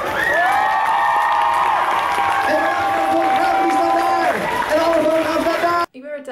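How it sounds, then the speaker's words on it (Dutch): An indoor crowd at a regional youth arts competition round applauds and cheers loudly for the performers, with shouts and whoops over dense clapping, cut off abruptly near the end. "Geef ze een heel, heel, heel hard applaus."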